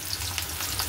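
Onions dropped into hot oil in a pan hiss with a loud, dense, steady sizzle up close, with a low hum underneath.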